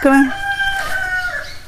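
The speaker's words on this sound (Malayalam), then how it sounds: "ആ ചാത്തപ്പൻ്റെ കൂവല്" A rooster crows once, loud and close, a drawn-out call that rises and trails off.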